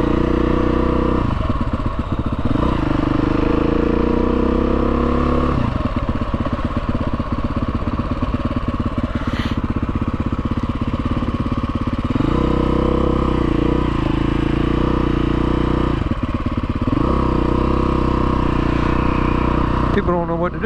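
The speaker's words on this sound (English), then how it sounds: "People don't know what to do when they see this motorcycle." A Husqvarna TE310R motorcycle runs continuously while being ridden on the street, its buzzy single-cylinder engine close and loud, swelling and easing with the throttle through the whole stretch.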